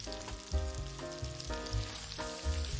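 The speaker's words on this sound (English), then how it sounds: "add the frozen cauliflower to the sautéed onion" Frozen cauliflower crumbs sautéing with onion in a pan, a close sizzle under steady tones with soft rhythmic stirring pulses about every half second.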